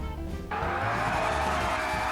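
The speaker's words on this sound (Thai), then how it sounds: "เสียงเครื่องยนต์นี่ แสบแก้วหูมากเลย" A modified Prior Design widebody Ferrari 458 in GTA5 sends out an engine note, then a loud, sustained tire skid squeals in close and steady.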